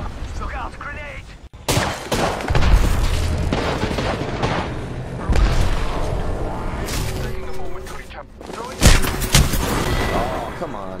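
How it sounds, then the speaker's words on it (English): Explosions go off in a shooter video game amid a grenade attack. Several booming blasts and bursts of gunfire hit at intervals, loud and near, with players talking over the action. "Look out, grenade!"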